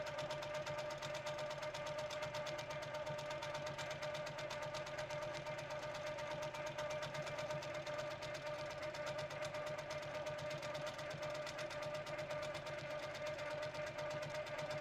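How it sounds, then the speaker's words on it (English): Sewing machine running steadily at a slow quilting speed of 500 stitches per minute, a continuous fast mechanical chatter with a steady hum, close and even throughout with no talk. "let's say if I go down to 500 stitches per minute, and let's do some quilting at this slower speed"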